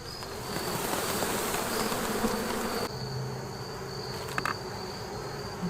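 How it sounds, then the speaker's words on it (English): Dense, steady buzzing of many honey bees around a hive close by, continuous throughout with a slight drop in intensity partway through. "Okay, I gotta get these bees off of here."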